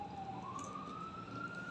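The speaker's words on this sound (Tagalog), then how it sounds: "Ambulansya? Ay, ambulansya." A distant ambulance siren drifts outside as a single thin, rising tone, faint under low ambient noise.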